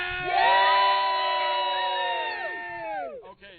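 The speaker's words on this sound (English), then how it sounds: "can y'all give me a big cheer for Martinsville?" A crowd at Martinsville Speedway cheers and whoops loudly, sustained excited shouting with children's voices rising and falling before trailing off.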